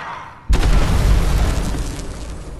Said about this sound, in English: Let's take a personal impact grenade,